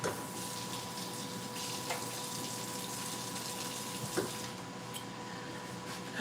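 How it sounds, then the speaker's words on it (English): Tap water runs steadily into a sink while hands are washed underneath, a continuous close splashing gush with a few small bumps and no talking, in a home kitchen during dinner preparation. "So wash my hand."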